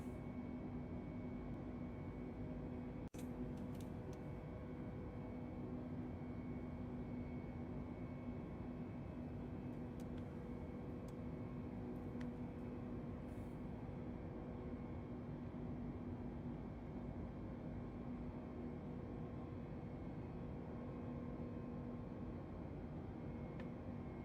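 Aircraft engine in Microsoft Flight Simulator 2020, a steady, even drone that holds unbroken and moderately loud for the whole stretch, with no talking.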